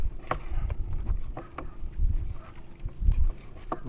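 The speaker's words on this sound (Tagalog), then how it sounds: "Grabe, lakas ng hangin." Strong wind gusting over a small fishing boat at sea during crab netting, buffeting the microphone in rough irregular bursts with low rumbling thumps.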